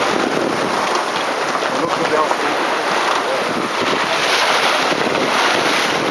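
Strong wind roars steadily across a sailboat underway in a gusty, accelerated wind spot, a loud, constant rushing buffet of wind on the microphone with water noise beneath it.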